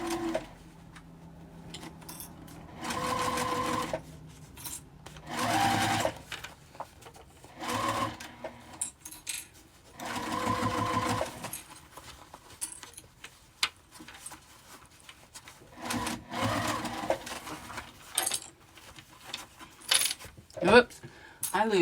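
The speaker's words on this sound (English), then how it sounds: "So now I'm just going to sew those on." A sewing machine stitches a makeup zipper bag in repeated bursts, starting and stopping with short backstitch runs, close and fairly loud, with brief handling clicks between runs and no talk.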